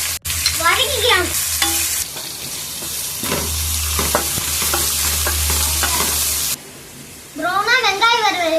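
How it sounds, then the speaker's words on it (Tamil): Onions, mustard seeds and curry leaves fry in hot oil for a mutton curry, giving a loud, steady sizzle with bursts of stirring, while someone speaks at the start and end. "கடுகு போட்டுக்கலாம். கருவேப்பிலை போட்டுக்கலாம். வெங்காயம் போட்டுக்கலாம் ஃப்ரெண்ட்ஸ். வதக்கிக்கலாம்."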